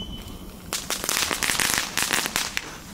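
Rapid bursts of cheap firecrackers popping close by, a dense crackling string of sharp bangs that builds and stays loud.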